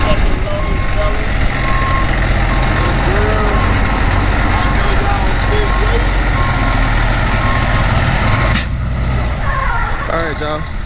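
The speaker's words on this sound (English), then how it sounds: "try extra truck up, drive in with the second load, fellas" A dump truck backs in with a load of fill dirt for a shop build site, its reversing alarm beeping steadily over a loud diesel engine rumble.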